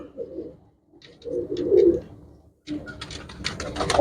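Nearby pigeons give repeated low, rolling coos that overlap in bursts, with some faint rustling and background noise toward the end.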